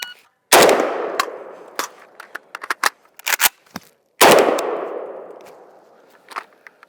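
Two loud single rifle shots from a 5.45x39 Galil Ace, spaced about three and a half seconds apart, each with a sharp crack and a long echoing decay, with scattered clinks and small knocks between them.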